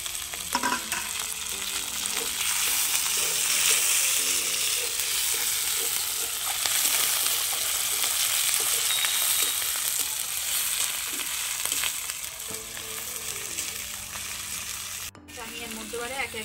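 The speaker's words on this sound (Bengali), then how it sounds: "ভাজা ভাজা হয়ে গেছে, আমি এর উপরে এবার একটু টমেটো কুচিগুলো দিই।" Chopped tomatoes fry over onions and ginger-garlic paste in an oily pan for a chela fish curry, making a loud continuous sizzle mixed with stirring scrapes, which briefly cut out near the end.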